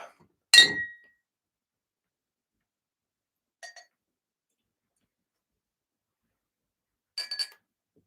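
Empty tasting glasses are handled and set down during a spirits blending session, giving three sharp glass clinks: a louder one near the start, then two fainter ones, separated by silence.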